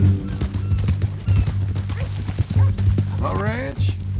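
In the video game Red Dead Redemption 2, a horse's hooves clip-clop at a steady walking pace under a low droning background, with a voice speaking over them.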